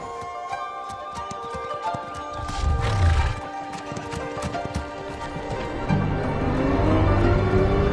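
A horse whinnies loudly amid clopping hooves and busy background noise, the whinny rising and falling before the hoof sounds continue.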